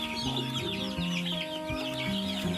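A chorus of nearly three-week-old chicks peeps continuously, high and busy, with steady chirping throughout and a clucking hen close by.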